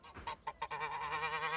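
Several loud goose honks come close together, a few short calls and then a longer, wavering run of honking near at hand, with no talk.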